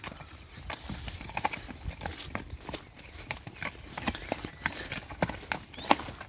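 A large, powerful mare's hooves clip-clop in a quick, uneven series of soft thuds, moderately near, over a faint outdoor background.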